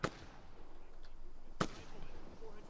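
Two sharp, distant gunshots crack in a video game, one at the very start and another about a second and a half later, over a low, steady ambient background with no talking.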